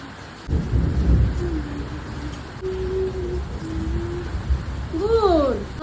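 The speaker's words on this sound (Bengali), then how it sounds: "কেমন বৃষ্টি হচ্ছে দেখো সবাই কত সুন্দর আজকে বৃষ্টি হলো" Steady rain falls at night under a banyan tree, a constant hiss with a low rumble of thunder underneath, while people's voices speak and exclaim over it.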